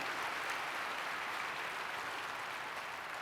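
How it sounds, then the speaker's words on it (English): Applause for performers at a conference opening ceremony, a steady, even hiss of many distant hands clapping throughout. "give them a nice little round of applause and thank you for their performance"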